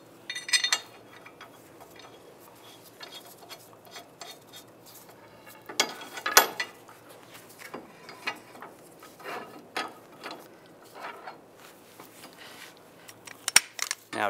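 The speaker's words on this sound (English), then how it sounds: "Then we want to spin the rotor and hub 180 degrees." Clanks, ticks and short metallic rattles from a 1999-2005 Volkswagen Jetta front rotor and hub being turned by hand, sparse and close, with quiet gaps between the bursts.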